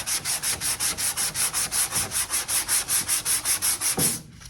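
Block sanding a fiberglass part with 80 grit sandpaper: about twenty steady, evenly paced rasping strokes, loud and close, with no talking, ending in a brief quiet.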